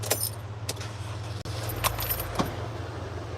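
Car keys jangling close by in short metallic rattles over a low idling car hum, with no talk.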